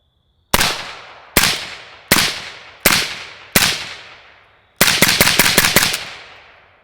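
An AK-74 rifle in Red Army Standard configuration fires through an Anechoic Anechox 223 suppressor: five loud, sharp single shots spaced under a second apart, then a fast string of about seven rounds, each with a quick decaying tail.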